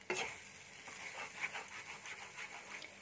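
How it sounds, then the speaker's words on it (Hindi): Eggs scrambled with vegetables over a high gas flame in a pan for street-style egg masala, stirred steadily with soft scraping strokes over a faint sizzle, close and fairly quiet with no talk. "ऐसे चलाते हुए पकाना है"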